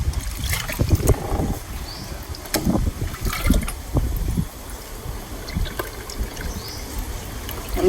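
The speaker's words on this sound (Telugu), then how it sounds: "ఇప్పుడు ఈ దీంట్లో నీళ్ళు దీంట్లో పోస్తాను." Water is poured through a cloth filter and strained for plants, with uneven splashing and trickling broken by occasional knocks and handling bumps, fairly close.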